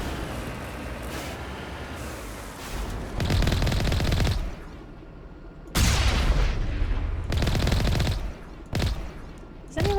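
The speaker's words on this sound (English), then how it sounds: "let's shoot some more thorian people" Rapid automatic weapon fire from the Mass Effect video game on the planet Feros, loud sustained bursts of several seconds each separated by quieter gaps, with no voices.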